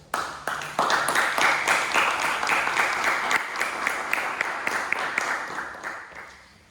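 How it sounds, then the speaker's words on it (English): Applause at a Toastmasters club meeting starts abruptly after a brief quiet moment, holds as steady clapping from a modest group, then tapers off toward the end. "Please give us all applause."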